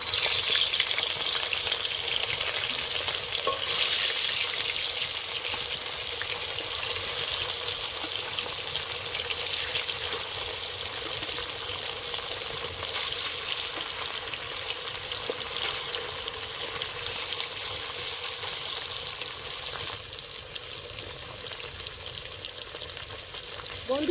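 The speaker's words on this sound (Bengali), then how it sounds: "এবার মাছগুলো দিয়ে দেব মাছ ভাজার সময় অবশ্যই তেলটা বেশি করে গরম করে নেবেন" Live shol fish fry in plenty of very hot oil, giving a continuous close crackling sizzle with scattered pops that eases slightly toward the end, with no talk over it.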